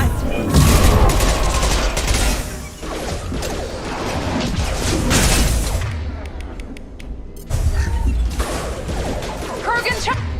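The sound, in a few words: gunfire in the video game Mass Effect 2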